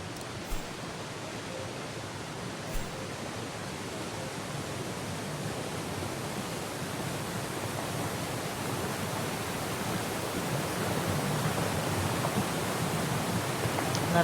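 A steady, dense roar of falling water from a waterfall in the Syberia World Before video game, a broad continuous rush that swells slightly toward the end, heard alone.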